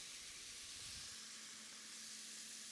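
Boneless, skinless chicken thigh pieces, cut bite-sized and salted, fry in a pan with a steady, soft sizzling hiss that runs unbroken throughout, fairly quiet and with no voices.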